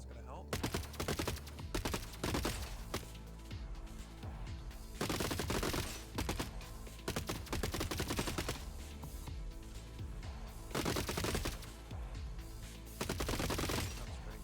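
Robots in the game Gladiabots concentrate their fire on one team, heard as repeated bursts of rapid electronic gunfire in dense clusters, loud and continuous over the stretch with brief gaps between volleys.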